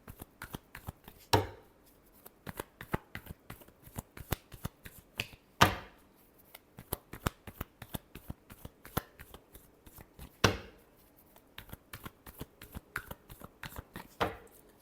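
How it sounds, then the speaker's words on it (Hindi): Tarot cards being shuffled by hand, a long run of quiet close riffles and flicks with periodic louder snaps as the deck is split and knocked together, with no voices. "last shuffle"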